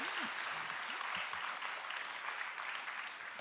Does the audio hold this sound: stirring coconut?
no